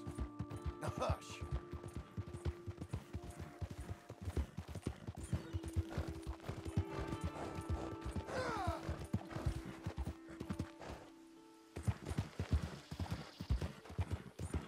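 Horse hooves clip-clop in a steady rhythm in Red Dead Redemption 2, with a horse whinnying partway through, over game music and speech.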